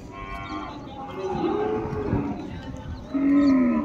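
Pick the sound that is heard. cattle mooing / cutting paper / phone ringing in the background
cattle mooing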